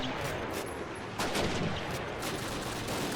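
Bursts of MG42 machine gun fire in the Call of Duty battle for the Reichstag in Berlin, rapid crackling volleys running throughout with a sharper, louder burst partway through.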